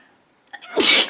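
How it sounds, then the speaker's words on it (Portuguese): One sharp human sneeze bursts out after a brief quiet pause and a short intake of breath, close and fairly loud. "Ai, deu vontade de espirrar."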